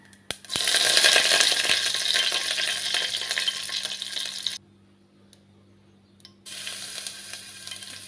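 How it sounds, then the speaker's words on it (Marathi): Cumin, mustard seeds and curry leaves dropped into hot oil in a pan burst into a loud, steady sizzle that crackles on, cuts out briefly, then resumes at a lower level. "इथे तेल घातलं जिरं मोहरी घातलं कढीपत्ता घातला"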